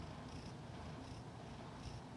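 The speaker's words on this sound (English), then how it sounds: "A little purring, I guess." A cat purring softly and steadily throughout, a low, continuous rumble that sits close but faint, with no talking over it.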